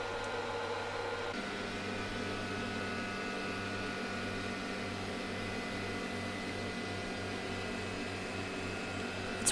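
A wood lathe spins a rough log bowl being hollowed on the inside, a steady mechanical hum with a whirring drone that continues evenly throughout, with no voices.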